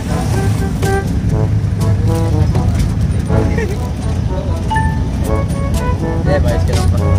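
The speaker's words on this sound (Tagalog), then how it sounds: "pauwi na nga kami. Nasa jeep na kami." Interior road noise from a Philippine jeepney under way, a steady engine and roadway rumble with occasional tonal horn-like toots, continuous and loud beneath people talking.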